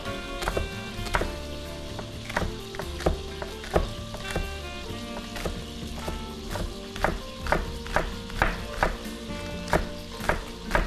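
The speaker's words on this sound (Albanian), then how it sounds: "bëjmë dhe prerjen e qepës" A knife cuts through an onion in a home kitchen, giving repeated sharp chopping knocks that speed into a steady rhythm toward the end, over continuous tonal background music.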